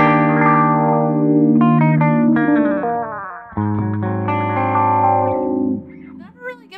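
Electric guitar played through the Sweep Echo delay on a Line 6 POD Go, loud, distorted chords and single notes with repeating echoes whose tone sweeps as they trail off. No talking is heard.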